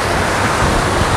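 Steady, full-bodied rush of a waterfall at Wat Huai Kaeo temple in Mahasorn, Ban Mi, Lopburi, a constant broadband roar with no pauses, close and fairly loud, with no voices over it.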